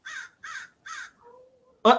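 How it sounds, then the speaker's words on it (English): Outdoors, a crow gives three harsh caws in a steady rhythm, followed by a faint thin whine and then one loud, sharp rasping call at the end. "That crow? It's a bird."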